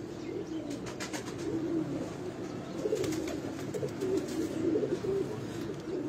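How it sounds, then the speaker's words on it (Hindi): A golden pigeon coos in soft, low, rolling calls that repeat over a faint, busy background, moderately distant and quiet. "इनमें एक कबूतर ये नीचे है गोल्डन कबूतर"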